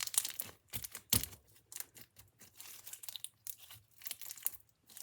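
Close, sticky crackling and snapping, soft pops and tearing sounds in irregular bursts, like slime being stretched until it rips.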